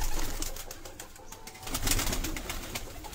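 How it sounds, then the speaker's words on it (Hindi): Red-eyed pigeons kept for sale in Sialkot coo softly amid a busy, noisy background, their calls rising and falling over about three seconds. "ये लाल आँखों कबूतर है"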